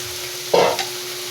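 Ampalaya (bitter gourd) hits a hot frying pan with a sudden loud sizzle and is stirred briefly, the hiss swelling and then tapering off, with a second short scrape-and-sizzle burst just after.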